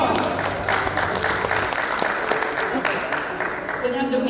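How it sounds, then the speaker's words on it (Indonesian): An audience applauds at an installation ceremony for a shipbuilding association's regional officers. The crowd claps steadily and continuously throughout, dense and fairly close. "Kita aplaus dulu pada beliau."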